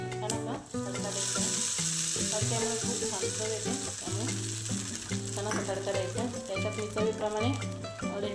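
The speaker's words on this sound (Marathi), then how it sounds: "त्यासाठी मी ते मोहरी टाकली आहे पॅन गरम" Mustard seeds sizzle and crackle in a hot pan for a chutney tempering, a loud continuous close frying hiss with intermittent stirring, and a voice speaking over it at times.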